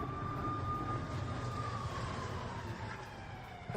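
Air raid siren sounding over Kyiv after a Russian attack, a long wailing tone slowly falling in pitch, heard from a distance over low rumbling city noise.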